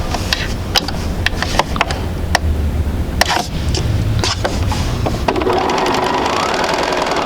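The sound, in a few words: sewing machine sewing fabric squares together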